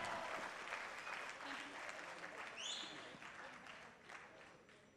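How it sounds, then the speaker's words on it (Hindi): An audience applauds at a film trailer launch event, a dense crowd clapping that tapers off gradually, with a voice speaking over the applause. "तालियां कंटिन्यू रखें"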